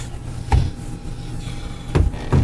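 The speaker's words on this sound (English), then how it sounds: "this door opens up, it's a bifold door" Bifold bathroom door in a 1998 Roadtrek 190 Class B camper van being opened, a few light clacks and bumps of the folding panels over a low background rumble.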